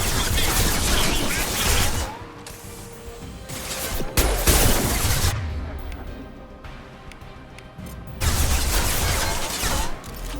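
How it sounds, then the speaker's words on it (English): Heavy gunfire and booming high-impact shots in Mass Effect 2, bursts of loud crashing blasts with a sharp hit near four seconds, dense and continuous with brief lulls between volleys. "Firing a high-impact shot!"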